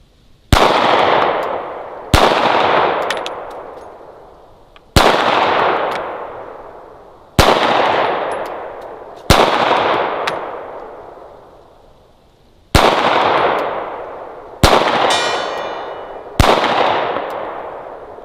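Gunshots fired at a target, eight loud sharp reports spaced a couple of seconds apart, each with a long decaying echo, with no talking.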